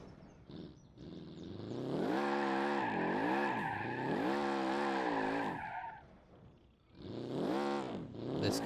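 A car in the BeamNG.drive driving game revs hard and squeals its tires through a long skid, the engine pitch rising and falling in waves, a pause, then another burst of skidding.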